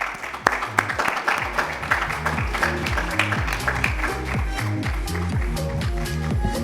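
Conference audience applauding as a speaker is called up on stage, a dense continuous patter of clapping close by, with some voices under it.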